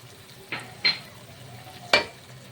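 A spoon scrapes a pan three times while cumin powder, garam masala and salt fry for chicken malai kofta, sharp stirring strokes standing out over a low, soft sizzle, with no voices.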